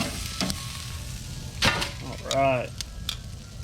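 Ribeye steaks sear on a hot grill, giving a steady sizzling hiss with a few sharp crackles. Someone speaks briefly over the sizzle.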